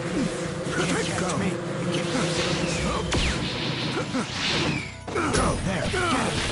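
Insect swarm attack in the video game Naruto Ultimate Ninja Storm Connections, a dense, loud buzzing swarm layered with game effects and impacts, continuous with a brief dip near the end.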